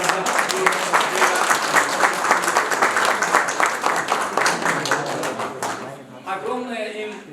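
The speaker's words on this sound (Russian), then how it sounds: "Давайте громко похлопаем для наших узбекских друзей" An audience at the Asian Blind Union General Assembly breaks into loud, sustained applause, dense clapping filling the room before thinning out, with a few voices heard over the end.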